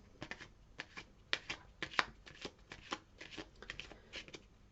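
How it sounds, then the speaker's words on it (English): Tarot cards are shuffled by hand in a steady run of soft, papery riffles and flicks, close and fairly quiet, with irregular sharper snaps scattered through. "So I'm going to pull you a daily healing card."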